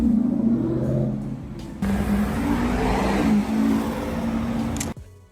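A supercar in Monaco gives a sustained, loud engine roar that rises and surges as it revs, with a mid-range rumble, then cuts off sharply near the end.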